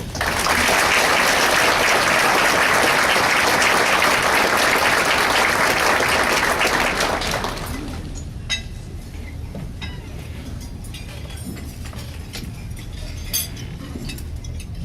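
Loud, dense applause from an audience greeting a keynote presenter at a fall event, sustained for about seven seconds before dropping to a quieter room with scattered clinks of glass and cutlery.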